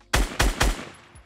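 Shotgun fire in the video game Fortnite: three loud, booming blasts in quick succession, each followed by a short decaying tail, with no talking.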